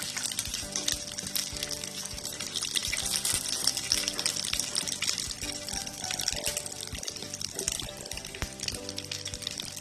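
Mustard seeds fry and pop in hot oil for coconut rice, making a dense crackling sizzle with scattered sharp pops throughout. The sound is fairly close, and there is no talk.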